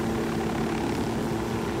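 A helicopter flying in the video game Ghost Recon Wildlands: a dense, steady rotor and engine roar that fills the whole moment, loud and continuous with no voices.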